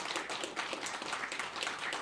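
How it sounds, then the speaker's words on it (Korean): An audience at a Korean formal ceremony claps, the opening of an academic conference marking an independence declaration anniversary. The applause is a dense, even wash of many hands, moderately distant and steady throughout. "더 건강하시라고 박수 부탁드립니다"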